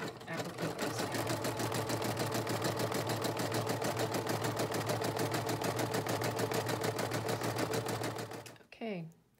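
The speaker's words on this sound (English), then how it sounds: "we're just going to stitch out step three. This is going to triple stitch around and tack the applique." Embroidery machine triple stitching around an applique on a bunny ears headband, a close, loud, steady rapid needle chatter running evenly for several seconds before stopping, with a brief mechanical whir at the end.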